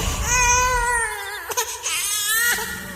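A baby cries in a steady wavering wail that lasts about three seconds, with a short break in the middle. The crying is close and fairly loud, and no one talks over it.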